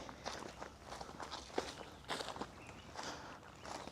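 Steady footsteps crunching on sand or gravel along the seashore in Chanthaburi, Thailand, a regular walking rhythm of several steps, fairly close with some outdoor background noise.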